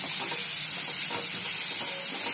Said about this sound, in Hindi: प्याज को हल्का नरम करके लेंगे और इसमें नमक भी ऐड करेंगे।